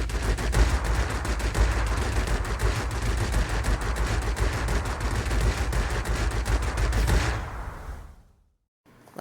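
Rapid continuous machine gun fire in World of Warplanes rattles loudly for about seven seconds, then cuts off abruptly into near silence.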